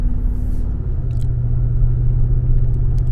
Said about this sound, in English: So let's see how this truck does. Accelerating good.